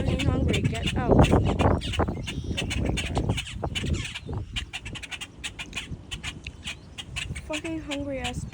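A hungry pet bird squawks insistently at feeding time, with harsh repeated calls and rapid clicking bursts close by while a person talks over it.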